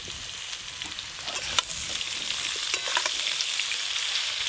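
Boiled jackfruit added to potatoes frying in a pan with ginger-garlic paste, giving a steady, close sizzle with brief stirring clatters and no voices.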